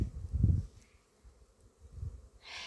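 Honey bees at an apiary being readied for the cold: buzzing swells in close, low-pitched bursts, with a second quieter pass and a brief rustle near the end.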